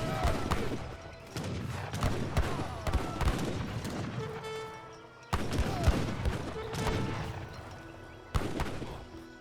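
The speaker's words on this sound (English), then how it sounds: "Now I've got the dragoons firing away." Dragoons fire volleys in the Age of Empires 3 real-time strategy game, Mexican versus British armies, with dense, overlapping musket cracks and thuds forming loud bursts of battle noise that surge and fade.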